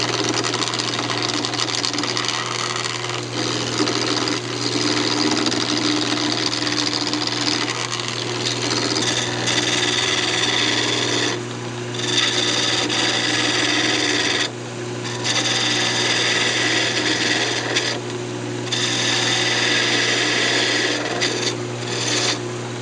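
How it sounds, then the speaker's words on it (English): Roughing gouge truing a spinning cocobolo blank on a wood lathe for a duck call, a steady close rasping cut over the lathe's low motor hum, with a few brief lulls where the tool lifts off the wood. "Just go ahead and use a roughing gouge. We'll just true it up."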